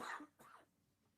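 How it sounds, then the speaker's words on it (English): A single close cough from a man on a podcast, a quick double burst followed by near silence. "Hold on, I got a cough."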